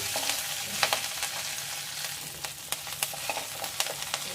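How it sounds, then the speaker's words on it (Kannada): Curry leaf chutney powder mix fries in oil in a pan, a continuous soft sizzle broken by frequent stirring clicks and scrapes of a spoon, close and moderately quiet, with no talking. "ಒಂದು 2 ರಿಂದ 3 ನಿಮಿಷಗಳ ಕಾಲ ಎಣ್ಣೆಲ್ಲ ಫ್ರೈ ಮಾಡ್ಕೊಳ್ಳಿ"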